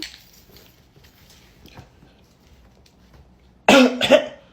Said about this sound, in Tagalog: Totoy, bakit inuubo ka?